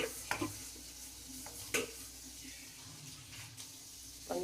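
Water bubbles at a rolling boil in a pot for ragi mudda, a soft, quiet simmer broken by a few faint clinks and knocks.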